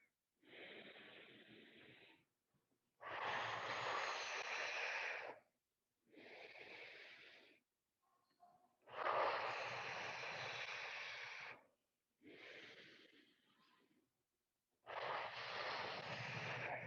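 Slow, deep breaths in and out during a yoga back-extension exercise, with long breathy bursts separated by silent pauses in an even, repeating rhythm, close and clear.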